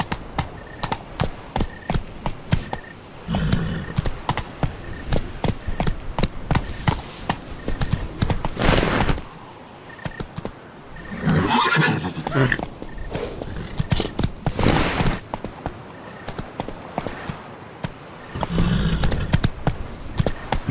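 Roach, the horse in the video game Witcher 3, gallops with loud rhythmic hoofbeats that come and go in bursts, and a whinny rises out of them. Game voices talk over and between the hoof sounds.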